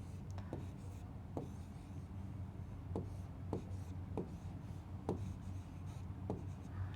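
Pen writing by hand on paper during a Bengali-language lesson on Arabic grammar, a soft steady scratching with several sharper strokes spaced through the stretch, quiet and close, with no voice over it.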